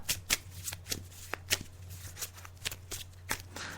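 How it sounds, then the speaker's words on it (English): Tarot cards being shuffled by hand, a series of soft, quick riffling snaps and flutters repeated in short bursts, close and quiet over a low steady hum. "So I'm just shuffling the cards now, Di."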